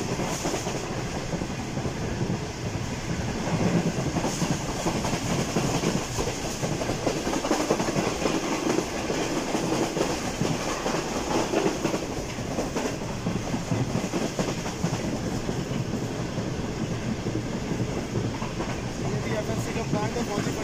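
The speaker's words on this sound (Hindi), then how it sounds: "GU40 9023 काफ़ी अच्छी स्पीड में लेके जा रहे हैं ट्रेन को" Karakoram Express passenger train running at speed behind a GU40 diesel locomotive, a steady loud rumble with rhythmic wheel clatter over the rails, continuous throughout.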